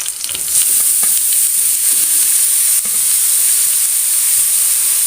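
Grated papaya dropped into a hot pan with curry leaves, giving a loud, steady sizzle with a bright hiss that holds evenly throughout, alone with no talk.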